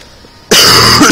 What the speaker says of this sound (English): Oh boy, keep coughing.